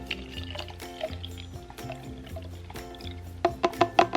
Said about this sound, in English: So I will go ahead and pour it into this bottle.